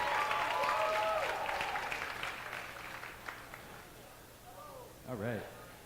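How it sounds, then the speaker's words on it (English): A crowd at a bouldering finals event applauds and cheers, a fairly faint wash of clapping and voices that fades, with a speaker's voice over the start and end. "A big cheer for Yeyoung online."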